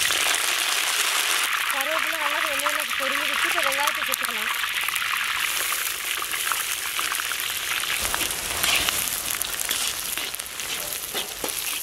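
Fresh curry leaves sizzle and crackle in hot oil in a pan while cooking brinjal kulambu, a steady bright frying hiss that runs throughout, with a brief tonal sound near the start.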